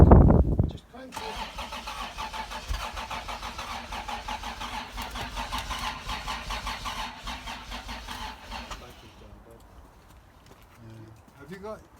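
A barn-find Toyota Supra is cranked over by its starter for several seconds, a loud steady churning that fades near the end, with voices nearby.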